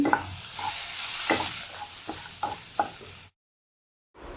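Onion, garlic, tomato and fresh coconut pieces cooking in a pan for a chilli masala, with a soft sizzle and repeated spoon scrapes and stirs close by, then a sudden brief silence before the sound resumes.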